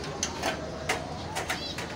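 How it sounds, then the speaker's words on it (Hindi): A wild pigeon coos softly several times amid background bird chatter, including parrots, and faint ambient noise, the calls repeating at a slow, uneven rhythm. "ये जंगली कबूतर आया हुआ है"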